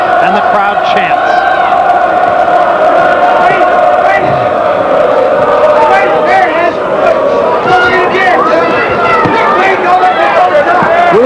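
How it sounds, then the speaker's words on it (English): A boxing crowd at a heavyweight fight chants and cheers continuously, a dense, loud wash of massed voices with rhythmic rising shouts throughout, close and sustained. "and the crowd chants."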